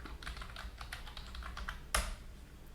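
Fast, light clicking of keys on a computer keyboard, close and quiet, with a steady run of keystrokes and one sharper key press near the end.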